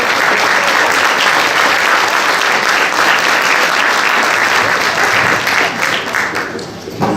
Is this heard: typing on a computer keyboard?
no